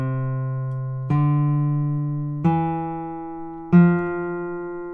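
Four single notes on a classical guitar follow one another at an even pace, each plucked tone ringing clearly into the next with a smooth crossfaded join between them, played alone.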